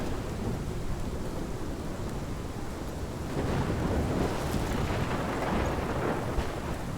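Thunderstorm in the video game Life is Strange: heavy rain hisses continuously while deep thunder rumbles swell and roll, growing louder midway, with no voices.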